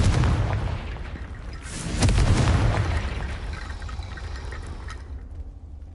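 A Confringo spell blast in Hogwarts Legacy erupts as a heavy booming explosion, swelling again midway with a rumbling crackle before tailing off into a fading hiss.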